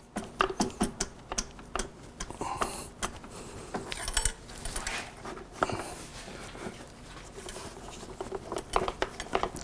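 Metal parts on a GSX-R750 motorcycle front end clatter and clink as the triple clamp is worked free, an irregular run of close taps, knocks and rattles with brief pauses between bursts.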